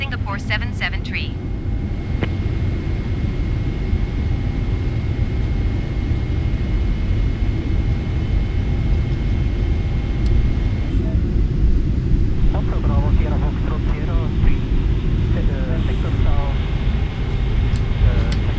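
Boeing 777-300ER taking off from Brisbane runway 19 left, a steady loud jet engine roar heard from inside the cabin or cockpit, with radio and crew voices speaking over it.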